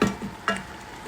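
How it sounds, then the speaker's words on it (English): Tomato risotto being stirred in a hot pan gives a soft, steady sizzle with a scrape near the start and a brief clatter midway, close and moderately quiet, with no voices. "I'm keep on stirring it."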